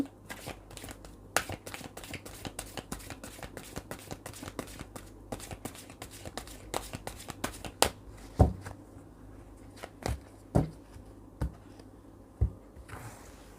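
Tarot cards handled and shuffled during a reading: soft, quiet, irregular taps and snaps of cards close by, with a faint steady hum underneath.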